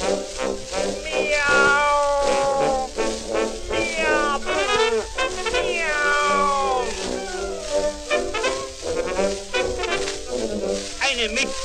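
Angora cat meowing repeatedly in long, loud, wavering calls, close and continuous throughout with no pauses or other voices.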